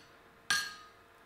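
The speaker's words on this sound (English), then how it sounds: "I then use a set hammer" A single sharp ringing strike of a set hammer on a forged iron axehammer, bright metallic clang decaying quickly in a quiet workshop.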